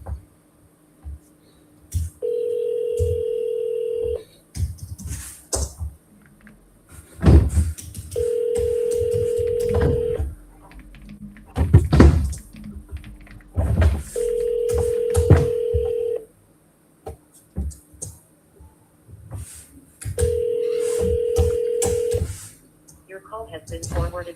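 Outgoing phone calls repeatedly dialed with DTMF keypad tones, followed by steady ringback tones that go unanswered, four cycles in a row, with speech and office chatter between the attempts.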